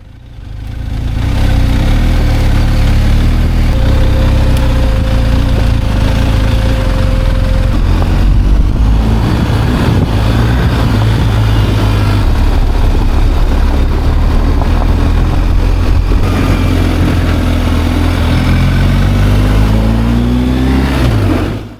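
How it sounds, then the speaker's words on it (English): A BMW R1250 GSA motorbike engine works hard on a muddy off-road trail in the Nagano countryside, a loud, close, continuous drone that surges and rises in pitch as the rear wheel spins for traction. "you can see the motorbike slipping away the back wheel as we're trying to find ourselves some traction"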